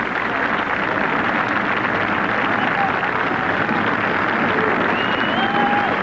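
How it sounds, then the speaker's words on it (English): Golf spectators at the US Open applaud Lee Trevino, a steady wash of distant clapping heard under a commentator's voice. "Applause, though, for Lee Trevino, another master of the game."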